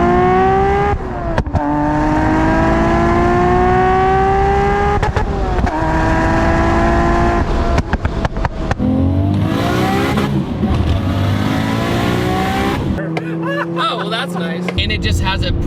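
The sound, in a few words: Nissan R34 GT-R single turbo engine driving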